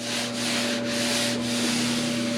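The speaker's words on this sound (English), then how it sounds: "probably just sanding a little bit and maybe a light wire wheeling to get these couple of rust spots" Steady abrasive sanding on the rusty metal body of a Toyota FJ60, a continuous close rasping rub with a faint mechanical hum and slight rhythmic swells, no voices.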